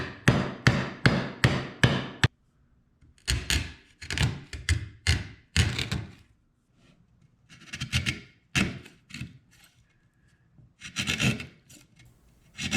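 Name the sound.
chisel cleaning up edges of a wooden mortise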